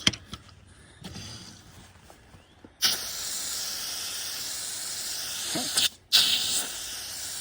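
Garden hose fitted with a spray nozzle, water jetting out in a steady hiss that starts and stops in bursts, with a brief cutoff before resuming.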